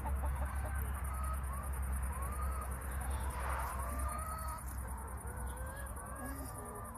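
Chickens cluck and call across a chicken farm, with short bird calls scattered over a constant low hum and a faint, even background drone throughout.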